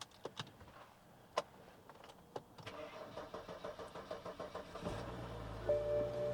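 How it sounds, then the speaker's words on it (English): A few clicks, then a starter cranks in a rapid rhythmic whir before the engine of a BMW 535i F10 with a relocated intake catches and settles into a steady idle. "Hopefully the car does start up."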